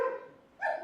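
A dog gives two short, high barks or yips, close and fairly loud, with a brief gap between them. No other sound is around them.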